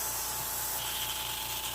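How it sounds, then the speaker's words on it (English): An airbrush sprays paint in a steady, continuous hiss that stays close and even, with a faint low mechanical hum underneath and no voices. "when I was spraying that paint on there"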